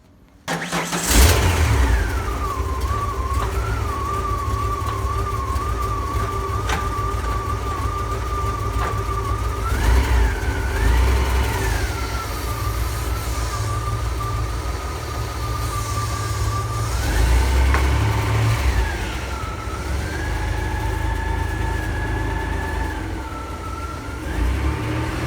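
A car freshly fitted with a new engine and gearbox starts up and drives out of a workshop on its first test drive, its steady mid-pitched engine hum rising and falling with a few revs, close and continuous.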